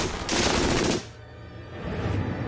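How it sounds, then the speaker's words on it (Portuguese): An MG-42 machine gun fires an extremely rapid burst so fast the shots blur into a tearing roar, cuts off, then a second long burst begins. "A MG-42 é tão rápida que não se pode ouvir seus tiros individuais."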